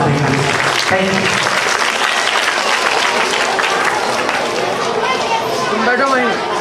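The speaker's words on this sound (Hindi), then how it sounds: "एक जोरदार ताली आप सभी को।" Loud, sustained applause from a school audience at an annual function, filling the whole stretch with dense clapping while voices and crowd chatter mix underneath.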